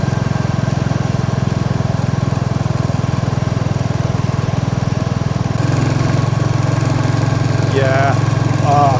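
A Royal Enfield Classic 350 motorcycle engine drones loud and steady throughout while riding, with the pitch stepping up partway through; a voice speaks briefly over the engine near the end.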